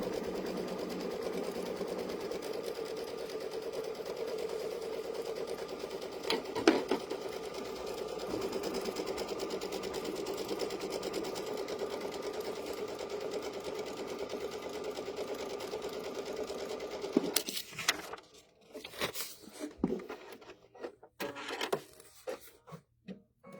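An embroidery machine stitches a placement line for a background block on a bench pillow, a fast, steady mechanical whir for about seventeen seconds, then stopping into scattered clicks and handling noises.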